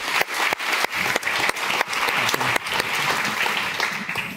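Warm applause from an audience welcoming a speaker at a talk evening, dense and close, with a few sharp individual claps standing out and steady clapping filling the room.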